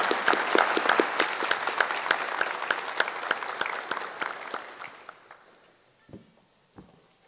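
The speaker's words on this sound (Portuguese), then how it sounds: "Vamos aplaudir a palavra do Senhor." A church congregation at Sunday Mass breaks into steady applause that fills the room, then thins and fades to a few scattered claps and soft footsteps.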